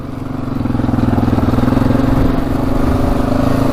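Yamaha Raptor 700 four-stroke quad held flat out at top speed, a loud, steady, throbbing engine drone close by with a slight surge, no talk over it.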